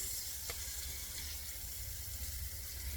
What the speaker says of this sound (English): I'm going to go ahead and flip these over.